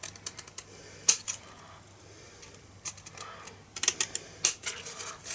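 Paper tabs for a gift bag are cut at an angle in a few crisp, sharp snips separated by pauses, close and fairly quiet, with faint handling rustle between cuts.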